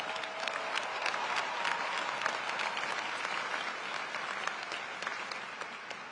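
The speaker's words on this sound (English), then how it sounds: "let us give our alum a warm round of applause and welcome." Sustained, dense applause from a large graduation audience at a Howard University commencement ceremony, steady and full throughout with no voices standing out.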